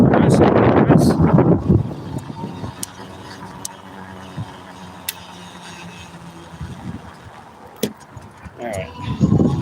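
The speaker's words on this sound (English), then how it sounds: "we gotta bear the headwind again" Headwind buffeting a microphone outdoors, with loud gusty rumble bursts at the start and end, a quieter windy stretch between and brief talking.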